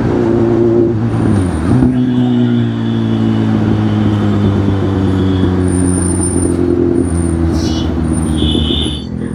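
A car driving at 50–60 in moving traffic, a loud, close, steady engine drone with shifting pitch and faint high whines from passing vehicles, no talk.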